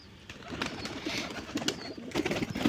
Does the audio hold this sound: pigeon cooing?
yes